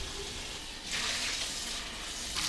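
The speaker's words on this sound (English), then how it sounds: "And I do have to rinse this unit out because I added in the vinegar." Tap water runs steadily while a countertop water distiller is rinsed out after a vinegar cleaning, a close hissing stream that swells louder in two brief surges.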